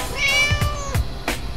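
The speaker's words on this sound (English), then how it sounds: "Who is a good kitty? Oh yes, you're a good kitty." A cat meows several times in quick succession, close and fairly loud, with clear tonal calls and brief noisy bursts between them, no talking.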